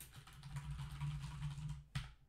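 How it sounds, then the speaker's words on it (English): Soft, fast key presses on a computer keyboard during Yakuza 0, quiet and close over a low steady hum, ending with a couple of sharper clicks. "I'm literally pressing every button on my keyboard."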